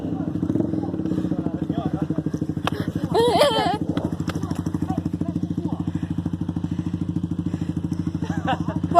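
A motorcycle-like engine idles nearby with a rapid, even putter throughout, outdoors on a walk with a dog, while people talk over it and a dog's sound briefly rises above the motor.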